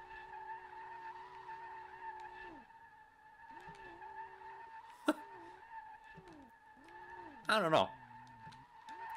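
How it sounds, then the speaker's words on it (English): A Nissan 240SX drifting in SLRR gives off repeated tire squeals over a steady engine drone, with a sharper, louder skid burst near the end and a brief remark spoken over it. "I am drifting"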